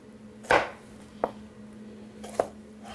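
Knife chopping tomatoes on a cutting board for guacamole, three distinct close cuts spread out in an uneven rhythm, with quiet kitchen background between them.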